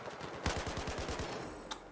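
Rapid automatic gunfire from a video game, Battlefield 4, Dragon's Teeth DLC: a quick burst of about nine evenly spaced shots fairly close, followed by a single sharp report a moment later, with no talk.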